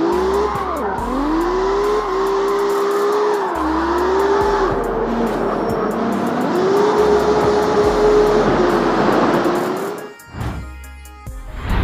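Street racing car in the CarX Street mobile game, engine roaring and shifting pitch through gear changes with tires squealing on turns, loud and continuous, ending in an abrupt burst of impact noise.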